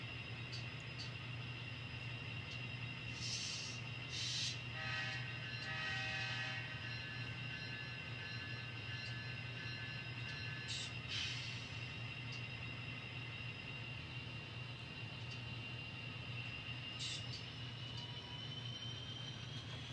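An N scale model train shoves a long string of cars along the track, giving a steady low rumbling hum with faint metallic squeals and clicks over it. No one speaks.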